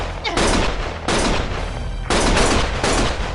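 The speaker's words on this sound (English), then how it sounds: "Stop shooting!" Loud bursts of automatic gunfire in the video game Lost Judgment, four sustained volleys separated by brief pauses, close and harsh with deep booming undertones.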